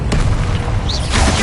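A loud, deep boom from a Bombarder spell explosion in Hogwarts Legacy, an opening thump followed by a sustained low rumble across the short moment.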